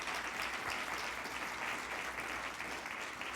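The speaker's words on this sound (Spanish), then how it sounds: "¿me apoyan a darles un fuerte aplauso a estas personas?" A church congregation applauds first-time visitors, with steady sustained clapping from a full room that holds at an even level throughout without letting up.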